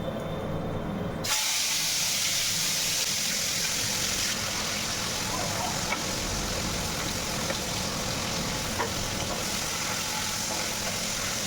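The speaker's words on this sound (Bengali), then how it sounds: "উচ্ছে আর গাজর ভাজা হয়ে গেছে" Sliced bitter gourd and carrot fry in hot oil in a home kitchen, a continuous loud sizzling hiss that holds steady throughout with no talk.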